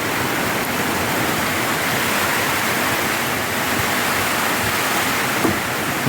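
Heavy typhoon rain pounds on a roof, a dense, loud, unbroken roar of drumming water with no letup and no voices.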